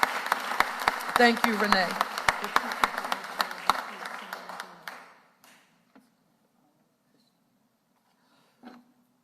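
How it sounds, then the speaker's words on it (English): Audience applause at a Philadelphia city press event, loud scattered claps that thin out and stop after about five seconds, followed by a brief spoken thanks near the end. "Give her a round of applause there."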